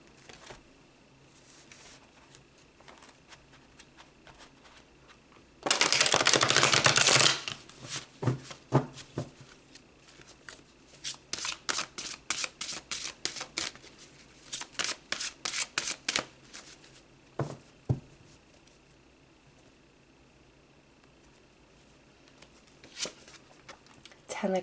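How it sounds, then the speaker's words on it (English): A deck of tarot cards is shuffled in a loud, dense riffle burst, followed by a string of lighter card flicks and slaps at close range in a quiet room. "I feel like I need to do another shuffle with those."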